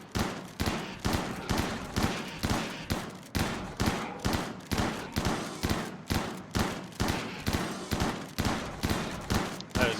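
Rapid, evenly spaced gunshots in a RimWorld-style colony survival game, a loud sustained volley of sharp cracks repeating about every half second with no talk.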